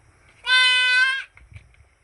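A goat gives a single clear, loud, close bleat lasting under a second, with a faint rustle before and after.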